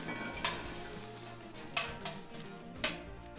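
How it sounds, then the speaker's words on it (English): Hot charcoal goes into the firebox of an offset smoker, three distinct scraping, clattering dumps spaced a second or so apart over a steady crackling hiss, close by with no talk. "start adding the charcoal into the firebox area"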